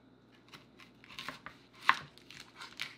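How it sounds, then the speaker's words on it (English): A knife slices through a fresh onion into half-moon pieces, making a few quiet, crisp cuts and crunches at an irregular pace, with one sharper snap partway through and no one speaking. "Now let's cut up a fresh onion."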